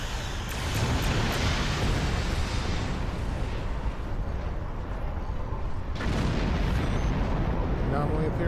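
In the space combat of Star Trek Online, photon torpedo fire and explosions make a loud, continuous rumbling barrage of blasts and booms, swelling again near the end with a fresh burst.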